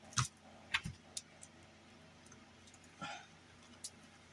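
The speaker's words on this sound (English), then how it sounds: "One minute, because my cards fell." Tarot cards falling make a few sharp, close slaps and clatters early on, followed by lighter scattered ticks, fairly quiet overall.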